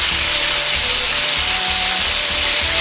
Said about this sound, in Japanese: 空気に触れさせてから再度油に戻し二度揚げします